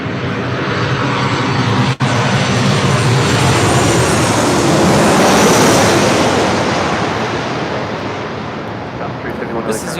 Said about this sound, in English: This is United Airlines 1314 coming in from San Francisco on a 737-800